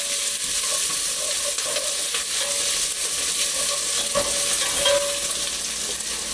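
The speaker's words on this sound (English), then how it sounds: "Now we're going to cook these onions down so there's a char." Garlic and onions fry in oil in a pot with a dense, steady sizzle, broken by occasional scrapes and taps of a spoon stirring nearby, with no voices.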